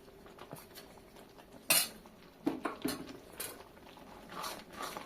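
A utensil scrapes and knocks against a pan while wet rice flour batter for arisha pitha is stirred over low to medium heat. Sparse clinks and scrapes come close by, with a few sharper metallic taps and no talking.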